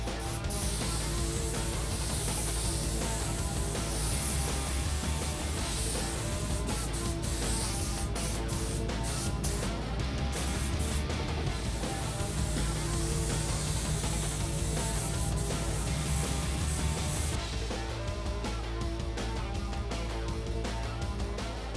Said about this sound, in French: on va pouvoir utiliser maintenant pulvériser la base sur le support